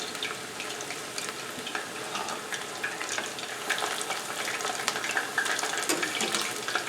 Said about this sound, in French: On va les laisser reposer pendant qu'on finit de frire les autres